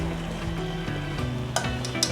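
Tomato and seasoning simmering with canned sardines in a pan for a sardine curry, a steady close sizzle and bubble with a couple of sharper stirring taps, no talking.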